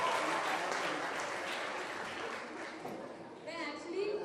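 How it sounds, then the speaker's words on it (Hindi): Applause from a school audience at a dance competition for underprivileged kids, a sustained crowd of clapping that swells at the start, eases slightly, then rises again with some voices mixed in near the end. "जोरदार तालियां आप लोगों के लिए"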